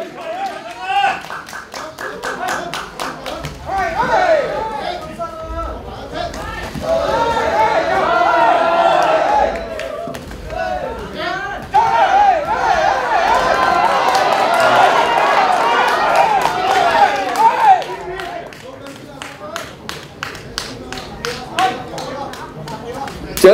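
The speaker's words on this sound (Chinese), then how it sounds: "掌声不要停好吗？" Crowd at a kickboxing match in Hong Kong applauding and cheering in sustained bursts, with excited chatter and a commentator's voice running over the noise, loudest in the middle stretch.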